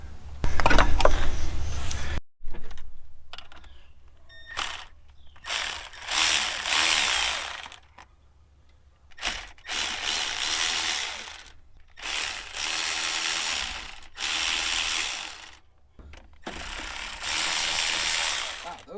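Ratchet wrench loosening bolts on a 1975 square-body one-ton dump truck cab chassis, heard as repeated bursts of rapid clicking separated by short pauses, fairly close and loud with no talk.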